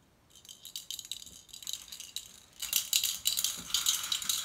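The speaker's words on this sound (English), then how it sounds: "oh, and it rattles" A freshly unboxed package shaken by hand, its plasticky contents rattling in quick, irregular bursts that grow louder and busier, close to the microphone with no talk.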